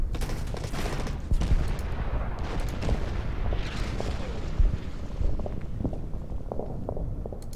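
Gunfire and artillery in the strategy video game Order of Battle: Pacific, a dense continuous battlefield din of rumbling shots and scattered sharper cracks with a few louder booms, no pauses.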